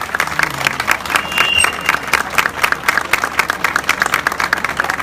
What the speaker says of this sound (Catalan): Un bon aplaudiment